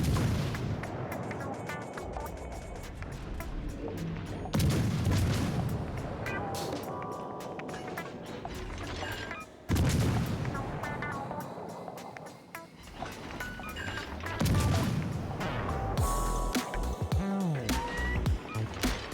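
Battleship gun volleys in a naval warfare video game, heavy booming salvos roughly every five seconds with rumbling decays and splashes, set against game sounds and a voice speaking.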